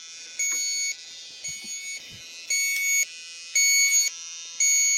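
Electronic refrigerant leak detector for HVAC work sounding a steady high electronic tone with repeated short louder beeps in a regular rhythm, close and fairly loud, with a few faint handling knocks underneath and no talk.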